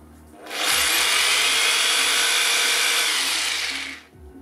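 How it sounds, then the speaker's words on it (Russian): A PIT PBH24-D rotary hammer runs in plain drilling mode: a loud, steady, high-pitched whine with gearbox hum that starts abruptly, holds for about three and a half seconds, then winds down, close up with no talk. "Ставим режим сверления."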